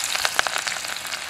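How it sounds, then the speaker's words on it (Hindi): Chopped onion and chillies fry in hot mustard oil for a tempering in a home kitchen, giving a steady close crackle and sizzle with scattered sharp pops throughout. "तो प्याज को अच्छे से हम भूनेंगे।"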